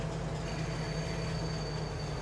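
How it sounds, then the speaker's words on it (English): Train braking in Farming Simulator 22, a steady loud rumble of rolling rail wagons with a sustained high metallic squeal of wheels running unbroken throughout, no talking. "The braking on this train is horrible."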